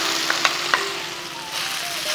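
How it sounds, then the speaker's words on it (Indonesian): Chicken luncheon meat frying in oil in a reused pan, a steady close sizzle with a few brief clicks and scrapes from stirring, no voices. "sekarang kita akan goreng si chicken lanchonnya ini."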